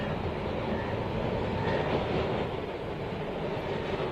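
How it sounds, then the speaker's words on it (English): A steam tram rolls along the busy Karachi tramway with a continuous, close rumble and rattle of the running gear, steady in loudness and without speech. "Jeff Todd captured all the atmosphere of this bustling tramway, with its fleet of 64 virtually identical vehicles"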